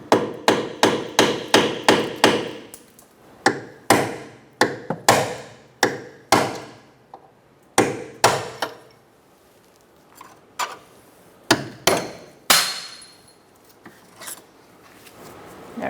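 A hammer taps a rear lower control arm bolt on a 2004–2009 Mazda 3, giving loud, sharp metallic strikes close by. They come in quick, steady runs, then sparser blows with short pauses between them.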